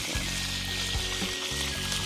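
Fish frying in a pan with a steady, close hissing sizzle that runs throughout, broken by a few low clatters, with no talking.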